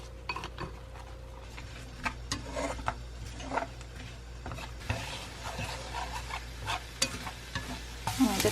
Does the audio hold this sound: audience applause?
no